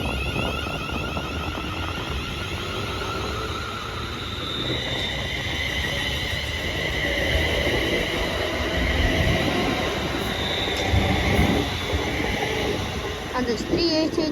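A Class 380 electric multiple unit bound for Glasgow Central rolls through Paisley Gilmour Street station, a steady, loud rumble of wheels and motors with high-pitched whine and faint squeal sustained throughout, no talk over it.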